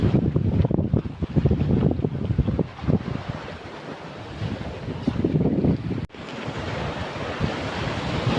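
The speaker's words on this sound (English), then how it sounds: "Nice and breezy now." Strong wind blusters on the Gobbins cliff path along the sea, loud rushing gusts battering the microphone with waves surging beneath, easing briefly midway before a sharp bump and a renewed steady roar.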